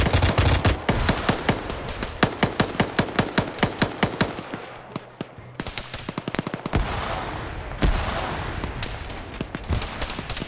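A DShK heavy machine gun fires in a video game in a long, rapid burst of loud, evenly spaced shots, then pauses before more scattered shots and bursts ring out across the battlefield.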